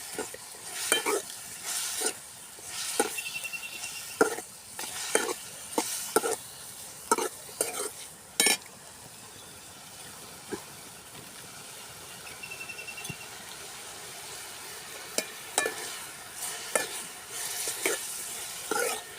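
Onions sauté in a pan for a village-style pea kurma, a soft sizzle broken by repeated scraping stir strokes at an uneven rhythm, quiet and close.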